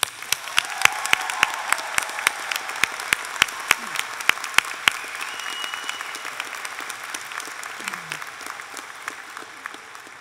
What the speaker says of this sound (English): a round of applause for our graduates